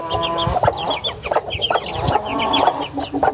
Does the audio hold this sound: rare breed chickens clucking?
yes